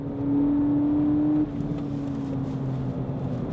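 A 2018 VW Polo GTI runs on a race track, its engine giving a steady, gruff drone. The pitch holds, then drops and settles partway through.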